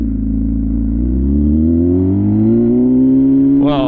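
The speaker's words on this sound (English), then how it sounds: "The sound on the exhaust, the sound on the exhaust is freaking just crazy loud" An MV Agusta Rush 1000 motorcycle exhaust revs up loudly, its deep engine note climbing steadily in pitch over a few seconds before a short rattle at the end.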